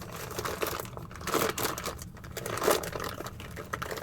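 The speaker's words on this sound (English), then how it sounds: "It's a piece of foam in a plastic bag" A piece of foam inside a plastic bag is handled nearby. Steady crinkling and rustling of plastic comes in uneven bursts, close and fairly quiet.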